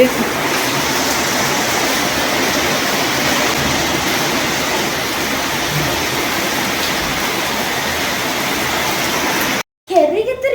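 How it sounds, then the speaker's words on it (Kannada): Heavy rain pours down steadily during a windy rainstorm, a dense, loud, continuous wash of noise that stops abruptly near the end. "ನೋಡ್ರಿ ಮತ್ತೆ ಜೋರಾಗಿ ಮಳಿ"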